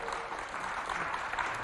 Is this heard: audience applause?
yes